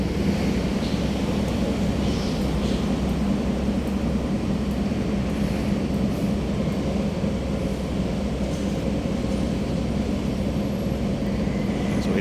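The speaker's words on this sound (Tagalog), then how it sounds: "So tuloy-tuloy ang daan ng LRT" An LRT light rail train in Manila rumbles along continuously with a steady low roar of wheels and motors, no voices.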